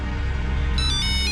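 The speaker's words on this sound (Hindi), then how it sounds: "अब किसका फोन आ गया?" A telephone begins ringing partway through, a bright repeating electronic ringtone rising over a low indoor background hum, with no one speaking.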